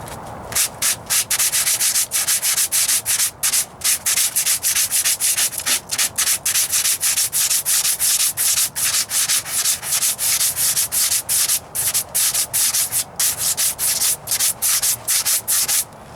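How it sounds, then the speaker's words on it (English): Hand sanding of a Ford Ranger passenger rocker panel with a sanding block: loud, close, rapid back-and-forth scratchy rubbing strokes in a steady rhythm, with no talking. "Switching up sanding blocks here."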